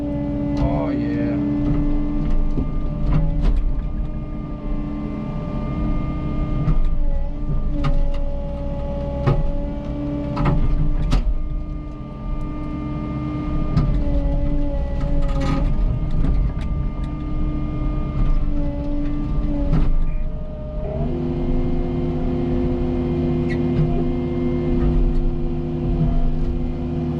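Cat 309 excavator working a concrete pad with heavy rebar, its diesel engine droning steadily and close throughout with shifting hydraulic tones and occasional knocks as the bucket breaks off a corner.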